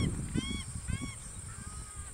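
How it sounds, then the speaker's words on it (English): Paradise ducks in New Zealand bushland give a few short, honking calls in quick succession at moderate distance, set against a steady windy outdoor hiss with a faint high tone. "Paradise ducks. Don't know what's got them."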